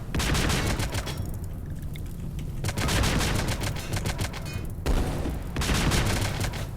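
Gunfire in the colony game RimWorld rattles in rapid, sustained volleys of crackling shots that run almost continuously, with brief lulls between bursts.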